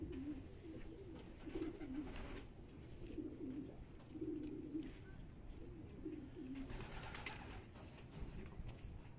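Racing pigeons coo in a loft in Quetta, a low murmuring chorus of rolling, pulsing coos repeating steadily, soft and fairly close, over faint background noise.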